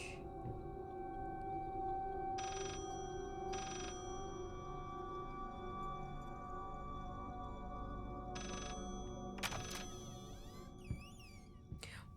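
A telephone rings in short repeated bursts inside the horror game Layers of Fear, heard over a low droning ambient background with eerie tonal sweeps near the end.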